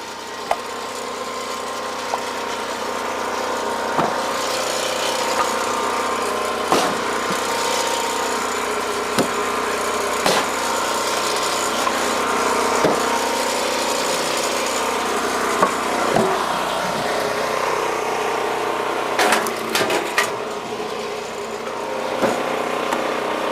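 A Power King kinetic log splitter runs steadily with an engine drone, with sharp wood-splitting cracks and thuds landing at irregular intervals across the run. The machine is close and loud, and no one speaks.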